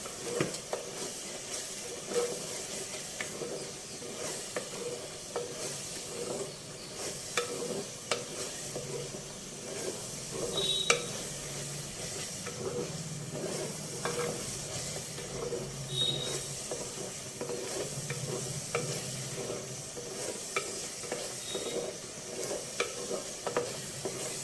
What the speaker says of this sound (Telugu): టమాటో మసాలా అల్లం వెల్లుల్లి ఉల్లిపాయ ఇవన్నీ చక్కగా వేగిపోయినాయండి.